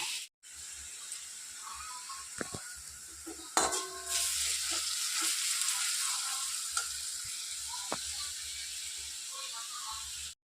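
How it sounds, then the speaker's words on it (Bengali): Carrots, capsicum and beans frying in refined oil for fried rice give a steady close sizzle throughout, with a few clinks and stirring sounds, and no speech. "গাজরটা ভেজে নেব একে একে। এই যে আমি ক্যাপসিকাম, বিনস সব একে একে ভেজে নেব।"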